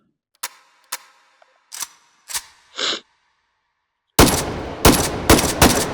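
Russian-style rifle gunfire in the VR shooter H3VR: several single sharp shots spaced apart over quiet, a short mechanical sound, then a louder run of rapid close shots at the end.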